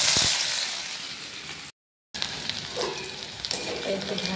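Capsicum, green chilli and onion sizzle and crackle in hot oil in a kadai for chili paneer, a steady close frying hiss with a brief silent gap midway and occasional stirring.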